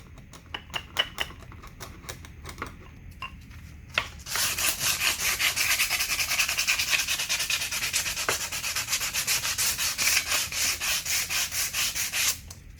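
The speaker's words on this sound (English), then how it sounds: "Running it over with some 80 grit." Wood being sanded by hand with 80-grit sandpaper during an antique nightstand repair: a few scattered rubbing strokes, then a dense, steady run of loud rhythmic back-and-forth scraping close up.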